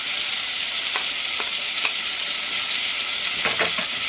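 Tomatoes with ginger and garlic sautéing in oil for vada curry. A constant bright sizzle fills the pan while a few light stirring taps and scrapes break through close by.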